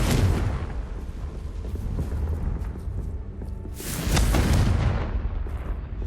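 Fiery spell blasts from the Hogwarts Legacy video game boom out in two big rumbling bursts, one at the start and another midway, with crackling debris over a continuous low roar.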